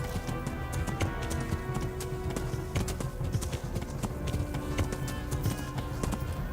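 Horse hooves gallop in a video game, a fast, steady clip-clop rhythm that runs throughout over a dense, constant background.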